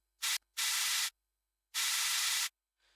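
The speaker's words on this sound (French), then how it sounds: "Et bah là, c'est du bruit blanc, hein, bête et méchant. Et là, j'ai un deuxième bruit blanc." Plain white noise layer used in a music production snare, three bursts of loud broadband hiss with abrupt starts and stops: a short one, a longer one, then after a gap a third, ending on a faint tail.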